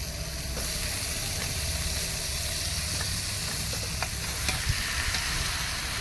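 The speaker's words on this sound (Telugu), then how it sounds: "చేపలు మసాలాకు బాగా అంటేలాగా చేపలు అయితే ఫ్రై అవ్వాలి వేసేయండి" Fish pieces fry in a pan of tamarind masala for a raw tamarind fish curry, giving a loud, dense, continuous sizzle with faint stirring ticks throughout.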